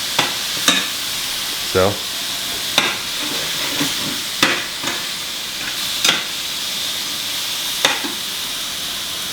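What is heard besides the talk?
meat sizzling while being cooked in a pan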